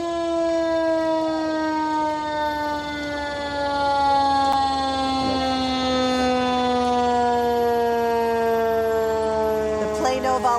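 A Plano Volunteer Fire Department fire engine sounds its siren in a Veterans Day parade, a loud, sustained wail that holds steady and slowly sinks in pitch, with faint crowd noise underneath.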